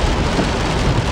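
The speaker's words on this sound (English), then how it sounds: "it is raining like fucking crazy" Heavy rain pounds a car during a night drive, a dense, loud, unbroken roar of drops on the roof and windshield with no voices.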